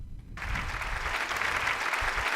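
Studio audience on a firearms talk show breaks into applause after a short quiet moment, a dense, steady wash of clapping that holds strong to the end.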